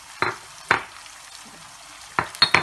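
Ground spice paste with onion, ginger, garlic, turmeric, cumin, coriander and potatoes fries hard over high heat for a carp curry, a soft sizzle broken by several sharp scraping stirs of the spoon in the pan.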